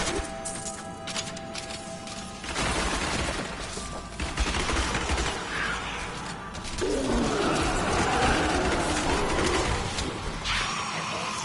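Turret fire in Diablo 3 gameplay: a dense, continuous barrage of rapid shots and impacts that swells louder midway and holds steady to the end, with no voices over it.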